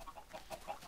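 Chickens cluck softly in Minecraft, a few quiet, spaced clucks over a faint, hushed background.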